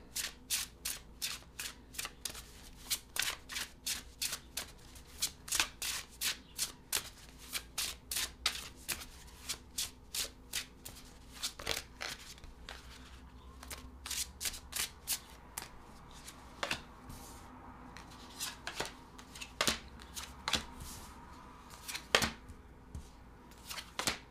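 Tarot cards are shuffled by hand in a quiet room, a long run of crisp riffling bursts at an irregular rhythm, close and fairly soft.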